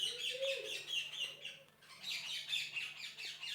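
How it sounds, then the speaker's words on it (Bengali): A bird calls from a tree, taken as a dove, with repeated faint chirps and squawks at a distance over a quiet background. "ঘুঘু পাখি ডাকছে গাছে।"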